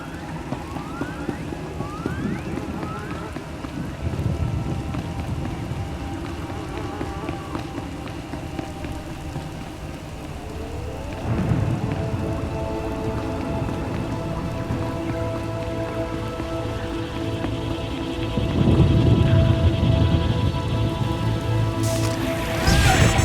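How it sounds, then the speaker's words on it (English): A rainstorm in Star Wars The Old Republic pours steadily for over twenty seconds, dense hissing rain on surfaces with faint wailing and mechanical tones drifting beneath, swelling louder near the end, with no speech. "Hard to track them through the storm. Rain's wiped out the trail."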